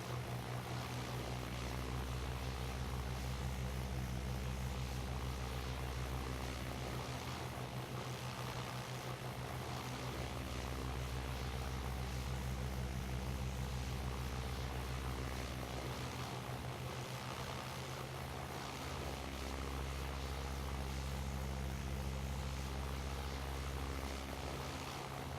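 Cessna propeller aircraft engine droning steadily in flight in the Flight Simulator X game, a continuous low, faint hum with slow swells in intensity, no speech over it.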